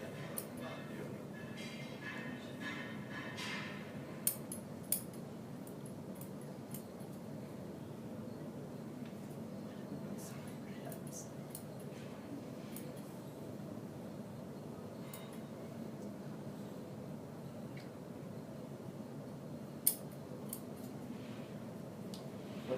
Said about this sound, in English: When you're cutting, make sure you use small incision-like cuts.